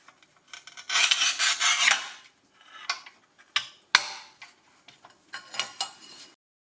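A Parkside 400 mm manual tile cutter scores a ceramic tile with several close, rasping scrapes, first a long grinding pass and then shorter intermittent strokes and clicks, all in a quiet room.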